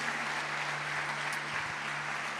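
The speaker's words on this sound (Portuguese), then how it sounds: "dá um aplauso a Jesus." Steady applause from a church congregation fills the room, dense continuous clapping at moderate level with a low hum underneath throughout.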